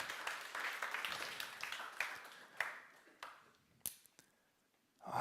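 An audience applauds, a dense burst of clapping that thins into scattered claps and fades out, fairly quiet and roomy.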